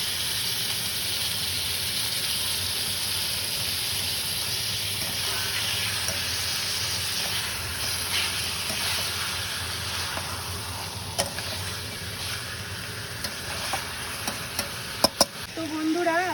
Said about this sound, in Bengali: দেখতেই পাচ্ছ মশলাটার মধ্যে আমরা চিকেনটা দিয়ে দিচ্ছি